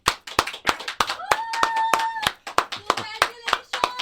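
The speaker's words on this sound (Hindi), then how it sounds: "ताली बज रही है, कौन है?" Sharp, distinct hand claps repeat in an uneven rhythm close by at a showroom opening, with voices talking and calling out between the claps.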